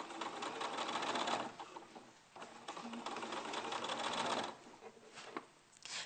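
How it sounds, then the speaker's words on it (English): A sewing machine stitches a fabric seam in steady whirring runs, pausing briefly between bursts, heard close and clear with no talking. "I'm going to start at the top again and sew the other side together"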